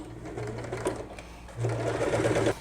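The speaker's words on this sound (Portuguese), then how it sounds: "A gente vai fazendo a volta todinha do avental, essa costura reta." A sewing machine runs a straight 3.5-length seam around the edge of an apron in two steady bursts of rapid mechanical whirring, close and clear, separated by a short pause.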